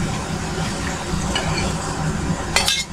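Potato slices fried until reddish sizzle softly in a pan, with scraping as they are stirred and lifted out, ending in a sharp clink of a utensil against the pan.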